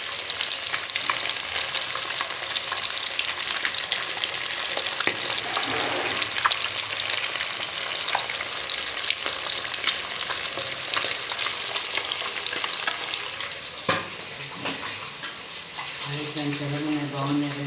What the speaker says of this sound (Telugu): చేపలు ఫ్రై చేస్తున్నాను.